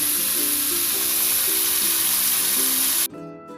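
Jengkol stew spices fry and get stirred in a pan, giving a steady loud sizzle with a faint rhythmic scraping underneath that cuts off abruptly near the end.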